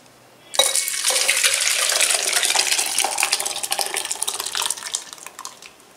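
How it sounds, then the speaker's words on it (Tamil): Tamil-style paruppu (toor dal) rasam poured from a pot into another vessel, a steady splashing liquid rush starting abruptly and continuing loud and close, tapering slightly toward the end, with no talking. "இப்போ ரசத்தை தூக்கி இந்த பாத்திரத்தில் ஊற்றிக்கலாம்."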